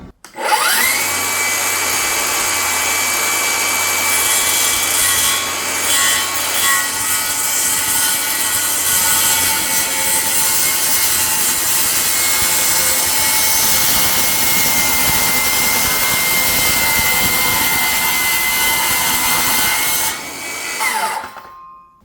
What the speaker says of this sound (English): let's go ahead and put the battery in, see if I can cut a straight line with this saw